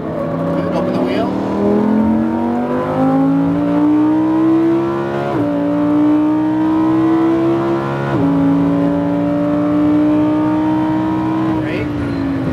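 A Lamborghini Huracan LP driving laps on a track, its engine loud and close, pitch climbing steadily through the gears with sharp drops at each shift and a continuous strained roar.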